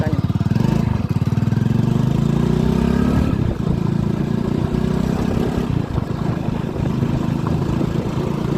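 Farm cutter machine with its engine running loud and close, a steady rumbling drone whose pitch shifts midway, with background voices talking over it.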